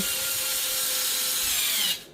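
A power drill set to low speed drives screws into an Arrma Kraton 4S RC car, a loud continuous whirring hum lasting about two seconds before stopping abruptly, with no talk.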